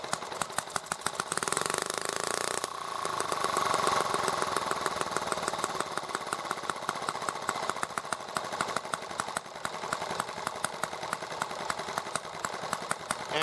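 A small engine idles with a steady rapid putter while its carburetor idle needle is turned, the note briefly swelling and shifting, fairly faint and alone.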